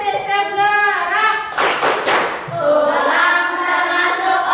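A classroom of children clap in unison along to a chant, with a short burst of clapping in the middle framed by the children's sing-song voices before and after.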